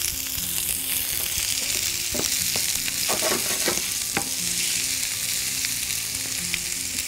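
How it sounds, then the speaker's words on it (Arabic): Onions sautéing lightly in a pan for a chicken skewer and barbecue sauce dish, giving a steady close sizzle and frying hiss with a few scraping stirs through the middle, no talk. "هناخد البصل وننزله، مش هياخد مننا كتير، هنشوحه بس تشويحة بسيطة"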